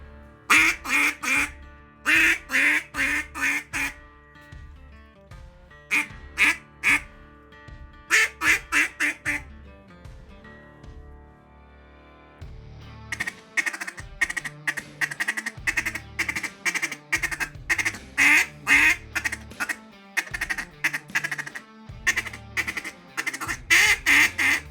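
A hand-blown duck call imitating a mallard, sounding out repeated bursts of loud, close, nasal quacks in rhythmic strings, with short pauses between them and longer rapid runs in the second half.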